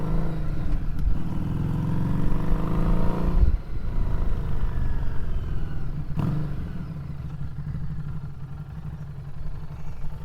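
A Harley-Davidson Street 500 motorcycle is ridden along a road, its engine droning loudly and steadily with rises and falls as it accelerates, with wind noise and a couple of brief clunks.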